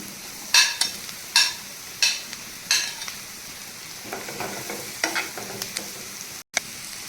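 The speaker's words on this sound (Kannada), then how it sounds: "ಕ್ಯಾಪ್ಸಿಕಮ್ಮು ಸ್ವಲ್ಪ ಲೈಟಾಗಿ ಮಾತ್ರ ಸಾಟೆ ಆಗಬೇಕು" Capsicum and onion sautéing lightly in a pan: a soft sizzle under a series of sharp spatula clacks and scrapes, evenly spaced at first, then quicker and lighter stirring.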